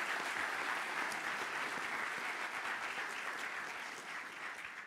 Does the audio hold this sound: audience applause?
yes